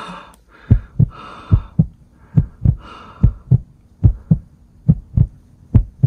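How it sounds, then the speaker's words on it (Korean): A heartbeat sound effect thumps in a steady lub-dub rhythm, about a dozen close, loud low beats, with faint higher tonal swells in the background early on. "저의 심장 박동수가 요동치면서 BPM이 굉장히 올라가기 시작했습니다"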